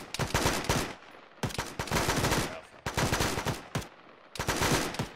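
Bursts of automatic gunfire ring out from a base in a military video game, four loud sustained volleys separated by short gaps, with no voices.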